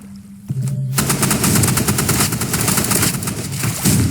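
Sustained automatic gunfire in a video game, a dense, continuous rattle of rapid shots that starts abruptly after a brief quieter moment and keeps going loud and unbroken to the end.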